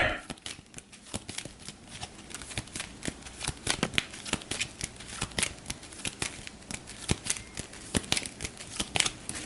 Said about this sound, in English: go ahead and shuffle these up.